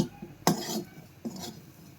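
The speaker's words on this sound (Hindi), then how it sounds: "ऐसे बिखरने लगे इस तरह से, इतना ही हमें भूनना है इसको।" Laddu mixture being roasted and stirred in a pan, a spoon scraping and knocking against the metal in two brief, quiet strokes with no talk.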